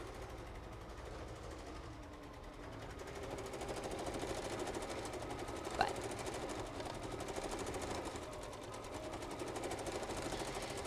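A computerized embroidery-quilting machine stitches with thread in a steady, fast mechanical hum that holds at an even level for the whole stretch, with one brief click near the middle.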